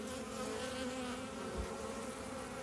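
Honeybees buzz steadily at a hive, a soft, even drone with no voices.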